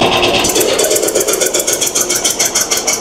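A tractor engine strains under load while pulling, giving a loud, dense, continuous mechanical drone with rapid pulsing knocks. A voice is faintly present in the background.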